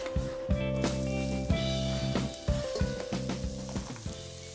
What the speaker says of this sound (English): we're going to put some olive oil in the base of our pan just to fry the onions and the garlic